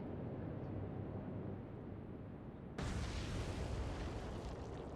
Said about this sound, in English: Is that a torpedo strike on the...